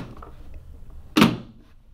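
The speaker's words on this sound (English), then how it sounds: "But this little teeny tiny door is designed to make kind of a big door sound." Foley door sound made with a tiny shoebox door device: one sharp, close wooden thunk of a door closing, standing out from a quiet, faintly rumbling background.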